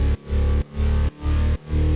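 Synth chords in a song intro, played as four sustained stabs that each rise in pitch before cutting off with a short gap, loud and full, with heavy low end and no voices.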